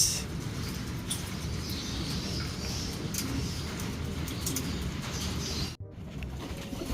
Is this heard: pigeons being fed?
yes